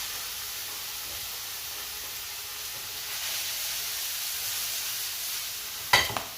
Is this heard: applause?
no